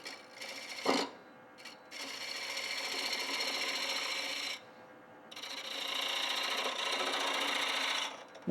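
A spindle gouge cuts wood on a lathe, producing a steady, loud rasping hiss in two long sustained passes with short breaks between, close up and without talk.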